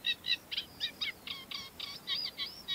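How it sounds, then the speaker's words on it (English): Warbler song at Higham Marshes, a rapid run of short chattering phrases and chirps repeated across a few seconds, fairly faint over a quiet background. "Spring is a great time to get to grips with sedge warbler and reed warbler, as well as their complex songs."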